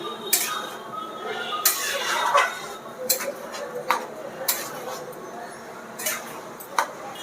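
A vegetarian dish cooked with ghee is stirred in a pan, the spoon scraping and clinking against the metal in regular strokes under a soft kitchen background.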